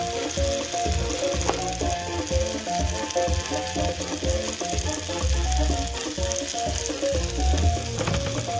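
Melted cheese bought in Nogales, Mexico, fries in a pan as its fat renders out, giving a steady loud sizzle with crackling pops and light scraping throughout.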